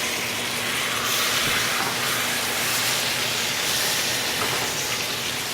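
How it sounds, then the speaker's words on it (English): A porterhouse steak sears in a hot pan, a loud, steady sizzling hiss running continuously and close, with no talk over it. "as we're searing the end of it for a nice, fantastic, juicy"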